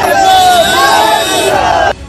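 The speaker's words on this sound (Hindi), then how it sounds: "भीड़ ने तेजस्वी के सामने लगाए मोदी मोदी और जय श्री राम के नारे।" A loud, massed crowd in Bihar chants political slogans at Tejashwi Yadav's arrival; the voices blend into a steady babble that cuts off abruptly near the end, leaving a quieter murmur.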